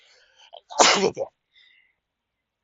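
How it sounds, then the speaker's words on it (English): A single sharp sneeze bursts out close to the microphone, brief and loud, with faint murmurs of a voice just before it and then near silence. "that was such a weird sneeze"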